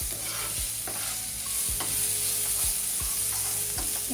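Crushed garlic sautéing in about two spoonfuls of oil in a pan, a continuous close hiss of sizzling with repeated low thumps and scrapes of stirring, no voices.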